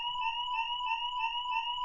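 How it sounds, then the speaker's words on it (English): A fire alarm sounds loud and close, a steady electronic tone pulsing in a regular rhythm with no voices over it. "There appears to be a fire alarm."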